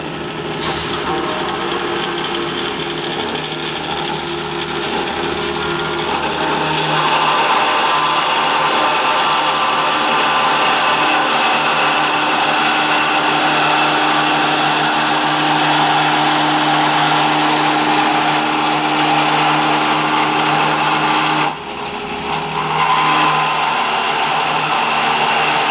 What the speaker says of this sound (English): And I have my blower set, so it's going to give us a little bit of air blow